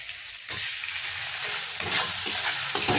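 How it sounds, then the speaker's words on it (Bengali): Chopped onion and ginger-garlic paste sizzle steadily in hot oil as filling for stuffed pointed gourd, with a close, continuous fry and brief scrapes from stirring. "পুরটা বানানোর জন্য এবার দিয়ে দেবো একটু পেঁয়াজ কুচি, এবার দিয়ে দেবো একটু আদা রসুন বাটা"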